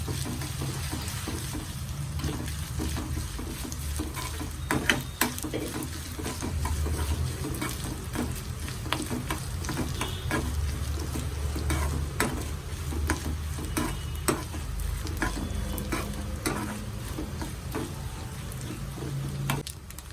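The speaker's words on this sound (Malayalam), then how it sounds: "ഒരു പിടി തേങ്ങ തിരുമിയത് കൂടെ ചേർത്ത് കൊടുക്കാം ഇതെല്ലാം നന്നായിട്ട് മൂത്ത് വരണം" Grated coconut roasts in a pan for erissery, with a soft, steady sizzle under frequent close scraping and tapping of a spoon stirring it, and no talking.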